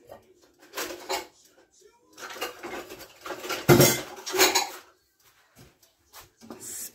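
Beef tips in gravy are stirred gently in a pot, giving intermittent scraping and clinking of a spoon against metal in short bursts separated by quiet gaps.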